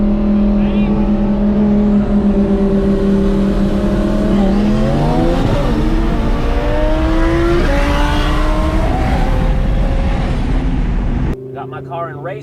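Twin-turbo Audi R8 accelerating hard in a race against a big single-turbo BMW, engine note climbing through several gear changes with rising and falling pitch, loud and close inside the car, ending abruptly.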